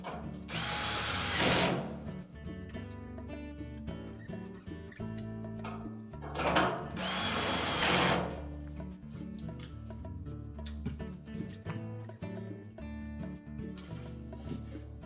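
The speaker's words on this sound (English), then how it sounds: "We can then put the 2 remaining screws in for that cross piece." A power drill drives screws into the cross piece of a Whirlpool dryer in two loud, long bursts. Music plays throughout.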